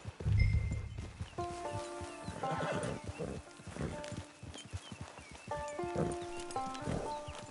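A horse whinnies loudly up close in Red Dead Redemption 2, then hooves clip-clop steadily along, with music-like tones and a second whinny near the end.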